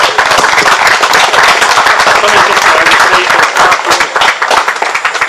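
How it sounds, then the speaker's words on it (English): Loud, dense audience applause fills a lecture gathering in Cleveland's Greek Cultural Garden, many hands clapping close and steady for the whole stretch, with a few voices faintly mixed in. "Can we give him a huge round of applause, please?"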